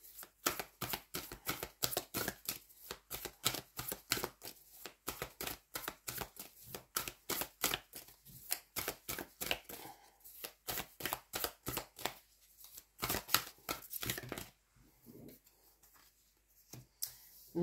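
Tarot cards being shuffled and drawn make soft, rapid riffling and slapping pulses, close and quiet, in an irregular run broken by brief pauses.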